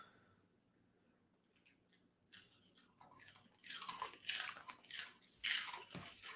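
Someone chewing crunchy Cinnamon Toast Crunch cereal close up: after a couple of quiet seconds, loud, irregular crunching bursts follow one after another, with no talking.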